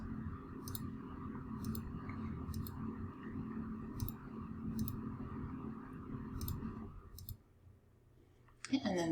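Computer mouse clicking while working on flip book templates, with sharp, evenly spaced single clicks roughly once a second over a low background hum, followed by a louder burst of handling noise at the end.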